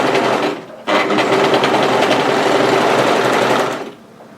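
Overlocker sewing the sleeve hem of a hoodie, running loud and steady with a brief pause near the start, then tapering off at the end.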